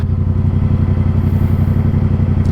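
A motorcycle engine idling in neutral after a downshift, a loud, close, steady throbbing rumble with an even rapid pulse throughout and no talk.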